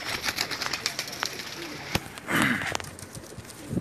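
Teddy pigeons coo softly in a loft, low murmuring calls near the microphone mixed with wing flutters and small scuffling sounds, with faint voices in the background.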